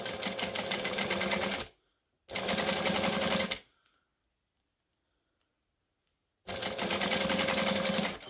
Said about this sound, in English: I'm going to stitch, and I'm going to backstitch.